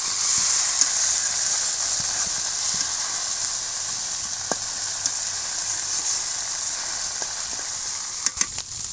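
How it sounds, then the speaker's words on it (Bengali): Spice paste for a village-style tengra fish curry being stir-fried in oil, a steady close sizzle with occasional scrape and stir knocks throughout, no talking. "এবার আমি ভালো করে নেড়ে ছেড়ে মশলাটা লাল লাল করে কষাই নেব"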